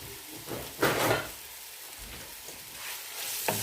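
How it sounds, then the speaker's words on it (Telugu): Onions fry in a pan for mutton pulao, giving a steady moderate sizzle broken by a few louder bursts as a utensil stirs and scrapes them, heard close with no talking. "ఇట్లా కలుపుతూ వేయించుకోవాలి."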